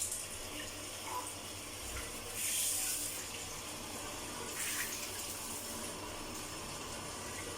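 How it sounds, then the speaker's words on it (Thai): Water runs steadily from a tap just after a repaired Toshiba 3,800-watt electric water heater is reassembled, a continuous hiss and splash at close range with slight surges in flow and no talking. "แล้วก็จะลองเปิดน้ำนะฮะ"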